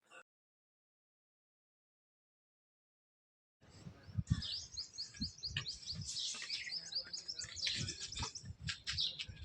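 Many small birds chirp busily at a bird feeding tower, a dense, lively chatter of close tweets that begins after a silent stretch and continues steadily.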